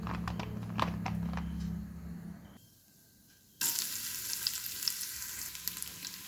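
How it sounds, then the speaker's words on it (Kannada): Onions and green chillies frying in oil in a pan for mushroom biryani, a soft steady sizzle that drops out for about a second midway, then returns brighter. "ಈರುಳ್ಳಿ ಹಾಕ್ಕೊಂಡಿದ್ದೇನೆ. ಚೆನ್ನಾಗಿ ಫ್ರೈ ಮಾಡುವ."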